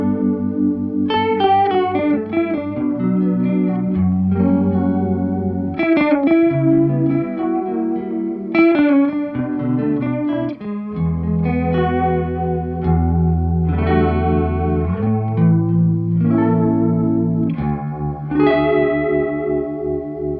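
Guitar played through a Benson Delay digital delay pedal set for fast, shallow modulation, giving a wavering vibrato with pitch wobble and echo repeats over sustained chords and melodic notes, loud and continuous with no talking.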